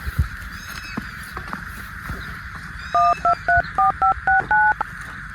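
A telephone number is dialed on a keypad: about eight short, evenly spaced dual-tone beeps ring out clearly over faint background noise in a comedy scene.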